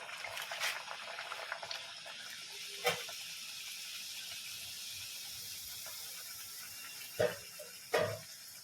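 Kombdi vada dough rolled flat and dropped into hot oil, frying with a faint continuous sizzle and a few sharper bubbling spatters, quiet and close with no talking.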